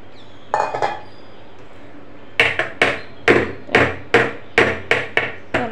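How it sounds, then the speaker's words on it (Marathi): A greased steamer plate filled with dhokla batter being tapped against a surface, a pair of quick metallic knocks, a pause, then about ten evenly spaced sharp clanks, close and clear with no speech. "आपण टॅप करून घेतणार आहोत, कारण त्याच्यातली हवा निघून जायला हवी।"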